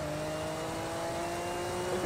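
A car lapping the Nürburgring in a racing video game played on a wheel setup, heard as a steady, faint engine whine with a held tone that climbs slightly, alone without talk.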